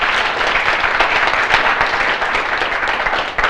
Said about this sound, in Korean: 그럼 자기 자신을 위해서 크게 한번 박수 한번 쳐보실까요?